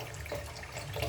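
Water runs steadily from a tap in a Filipino home, a continuous close splashing hiss heard alone.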